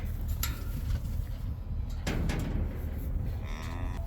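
Calves mooing loudly and close by near a livestock trailer at a farm gate, several drawn-out bellows over steady low rumbling and clattering noise.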